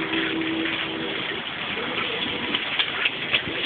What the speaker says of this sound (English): Look at that for fucking rain.